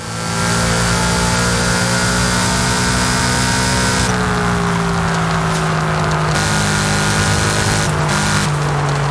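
In Forza Horizon 5, a Subaru S209 with a bodykit and a boxer engine revs loudly and continuously, its steady droning note dipping and climbing, close and up front.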